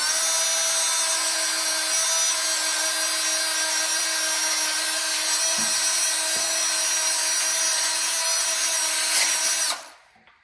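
240 grit sandpaper on a power tool sanding the wheels of a 1987 Bronco, a loud steady whirring abrasive hum held for nearly ten seconds before it stops abruptly.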